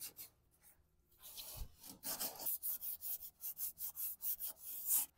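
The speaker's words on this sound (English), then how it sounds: "I got some of this 80 grit, so I'm gonna use it. So here we go. Start sanding it." Steady back-and-forth rasping of 80-grit sandpaper on wood, about a dozen rhythmic strokes after a quieter start, close and fairly loud.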